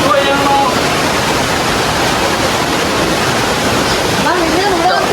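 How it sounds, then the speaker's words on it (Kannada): A stream flows below a temple, heard as a constant broad rush of water, close and loud, with voices talking over it. "ಕೆಳಗೆ ಹಳ್ಳ ಹರಿಯತೈತೆ ನೋಡ್ರಿ."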